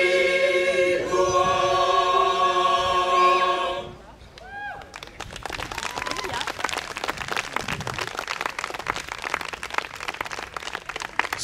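A crowd applauds a teachers' choir at a Līgo Eve celebration in Tukums, steady clapping from a sizable audience, moderately loud, after a sung ending fades out.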